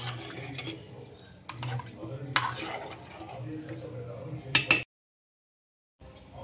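Water poured onto rice in a pot for chicken pulao, a close gurgling, splashing pour with a few sharper drips, ending abruptly before a short silence.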